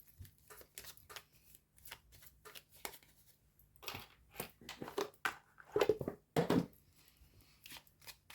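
A small deck of rune oracle cards is shuffled during a tarot-style card reading, producing soft, irregular riffling and flicking bursts that grow denser and louder toward the end, with no one talking.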